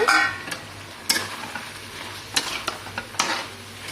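Three spoons of sambar masala stir-fried with vegetables in a pan for Bangalore-style sambar dal, a soft background sizzle broken by repeated metallic spatula scrapes and knocks against the pan.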